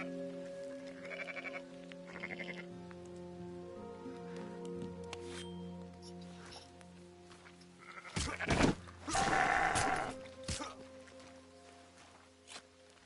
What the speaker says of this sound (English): Those are rare black sheeps.